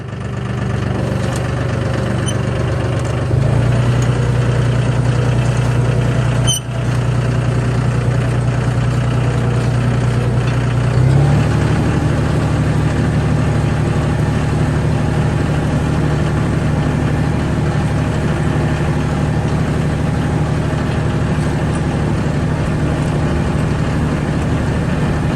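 A tractor engine runs steadily and loudly at close range in a potato field, a constant low rumble that shifts pitch slightly partway through.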